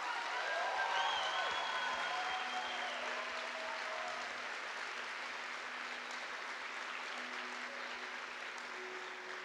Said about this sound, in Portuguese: Dá uma salva de palmas para esses discipuladores.